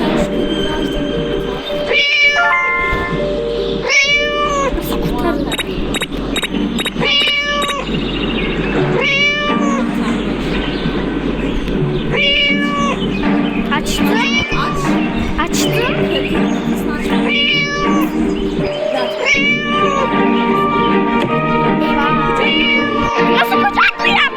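Repeated cat meows from a horror video game with a scary teacher ring out in a steady series, loud and near, over game background noise while a person talks throughout.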